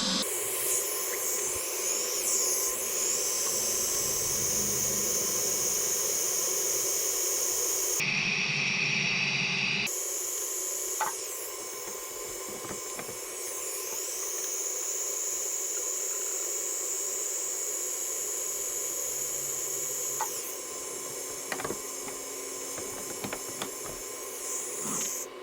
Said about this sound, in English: Probably should get a fan welding those zinc coated bolts